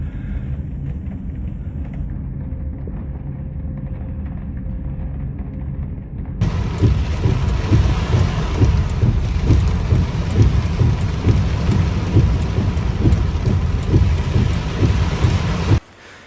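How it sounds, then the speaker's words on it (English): Heavy rain pours steadily and loudly in Hamilton County, Cincinnati, Ohio, flooding streets: a dense roar of drops that starts abruptly after a quieter opening and cuts off near the end. "heavy rain moved across the region"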